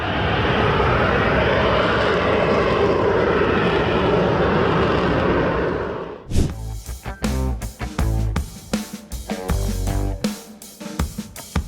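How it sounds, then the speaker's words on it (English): Loud, steady jet engine roar of a hovering Hawker Siddeley Harrier for about six seconds, then it cuts off and choppy, rhythmic music takes over. "The Hawker Siddeley Harrier is known for its vertical takeoff and landing capabilities."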